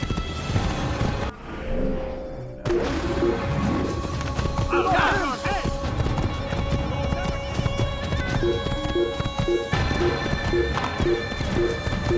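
A horse in the video game Assassin's Creed clip-clops along and whinnies amid busy in-game ambience, hoofbeats steady and fairly close, with a player talking over it.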